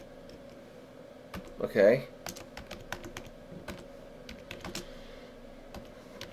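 Typing a command on a computer keyboard while installing Android Studio on Ubuntu 22.04, with a quick run of crisp, close key clicks; someone says a brief word at the start.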